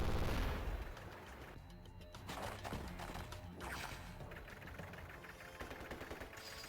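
Gunfire from a unit attacking a tank in the Advance Wars: Days of Ruin video game, a dense burst of rapid shots and rumbling impacts lasting several seconds, fairly loud and uninterrupted.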